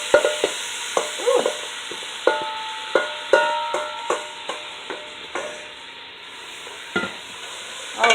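Ground beef with chopped green and red peppers and onion frying in a pan, under a constant hiss, with repeated sharp taps and scrapes of a utensil stirring at an uneven rhythm, close by.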